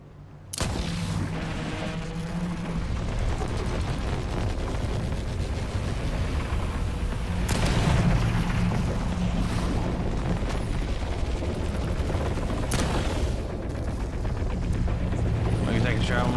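Weapon fire in the video game The Last Caretaker: loud, dense booming shots with sharp bursts near the start, around 7.5 s and 12.5 s, over a continuous heavy game rumble throughout.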